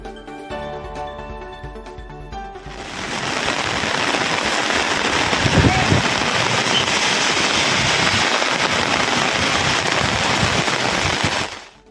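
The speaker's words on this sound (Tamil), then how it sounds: "மாவட்ட ஆட்சியர் அலுவலகம், அல்லம்பட்டி, சூளக்கரை, பாண்டியநகர் உள்ளிட்ட பகுதிகளில் மிதமான மழை பெய்து வருகிறது." Moderate rain falling in Virudhunagar, a dense, steady hiss of rain that starts abruptly after a quieter opening and carries on evenly, loud and close, then cuts off at the end.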